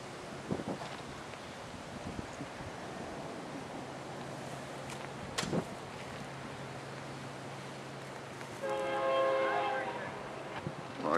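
A passing Norfolk Southern freight train, led by a Union Pacific locomotive, rumbles steadily under wind noise in Leeds, Alabama, ending with a loud horn blast near the close.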